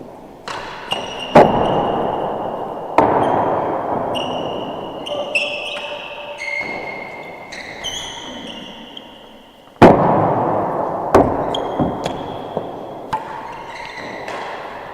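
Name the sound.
real tennis ball striking the timbre during a match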